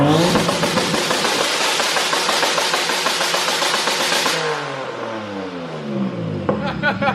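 Car engine revving hard, a steady high roar that cuts off and drops to a falling idle, from an E36 BMW with an M52 engine, heard close by with brief voices at the end.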